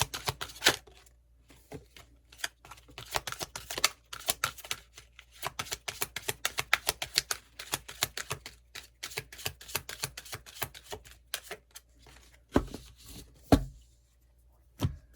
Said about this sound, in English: we're going to pull these Romance Angel Oracle cards